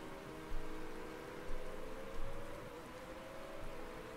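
Rain in a Motorsport Manager race, a steady hiss of rainfall with a faint engine-like drone underneath and a few soft thuds, quiet and continuous with no voices.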